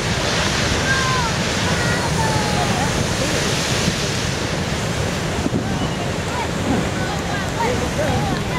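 Strong wind blowing across a beach at Smelt Sands with surf, a steady loud roar of buffeting wind noise and crashing waves filling the whole stretch without letup.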